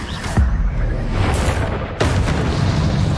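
Incendio fire spell in Hogwarts Legacy, a few sudden whooshing bursts with booming low impacts, separated by brief pauses.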